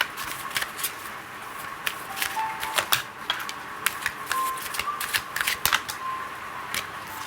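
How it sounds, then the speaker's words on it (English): Tarot cards being pulled and shuffled from a deck, close with rapid papery flicks and soft taps in irregular bursts, and no talking. "Let's pull a few more cards."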